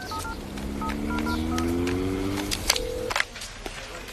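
A telephone number is tapped out as a rapid series of short touch-tone beeps in uneven groups, followed by a steady ringback tone, heard over a low engine hum inside a car.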